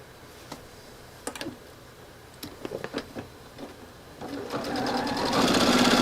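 A sewing machine stitches fabric pieces together for a patchwork project, starting with a few brief clicks and short runs, then ramping into a steady, close, continuous whirring hum that grows louder toward the end.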